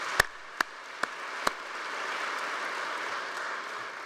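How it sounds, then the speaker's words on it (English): An audience at a Stanford athletics awards event starts with a few sharp claps that swell into a steady, moderately distant wash of applause. "I think that deserves a round of applause as well."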